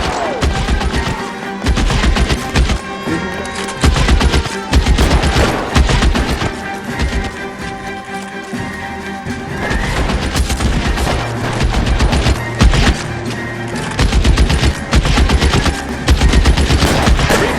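Gunfire in the video game L.A. Noire: loud, relentless bursts of rapid automatic fire and overlapping shots filling nearly the whole stretch, with brief lulls between volleys over a booming, dense backdrop.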